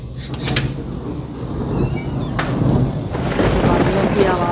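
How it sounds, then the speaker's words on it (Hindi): Thunder rumbles through light night rain, a low rolling swell that builds and lingers beneath steady rainfall, with faint household clatter in the background. "बादलों की आवाज़ इतनी प्यारी लगी"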